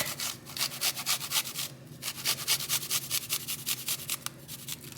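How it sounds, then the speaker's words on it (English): Fresh ginger and a garlic clove rubbed against a metal grater, a quick rhythmic rasping of short repeated strokes, close and fairly quiet, with no talking. "So I'm just gonna grate in my ginger. And then we're gonna grate in 1 clove of garlic."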